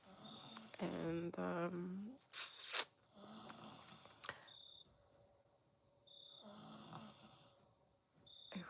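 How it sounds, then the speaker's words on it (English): A sleeping child snores softly nearby in slow, repeated breaths, each drawn-out rasp returning every few seconds over a steady background of chirping crickets. "I probably can hear my daughter snoring."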